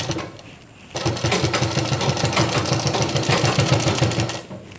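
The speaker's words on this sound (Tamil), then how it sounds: "இப்போ இதை நான் மேலே வச்சு தைச்சி காட்டுறேன்." A sewing machine stitching a zip onto a nighty: after a quiet start, the motor kicks in and runs with a steady, fast, loud needle rattle for several seconds before easing off.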